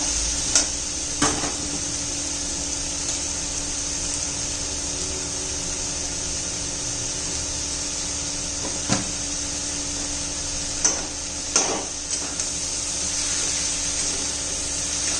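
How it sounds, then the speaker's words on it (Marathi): Round gourd (tinda) with spices, salt and tomato being sautéed in a pan, a steady low sizzle with a few sharp spoon scrapes and knocks against the pan; no voices. "जितकं चांगलं परतून घेऊ ना या ठेणीचं इतकी चांगली चव येते"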